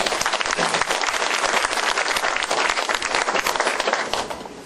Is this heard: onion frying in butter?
no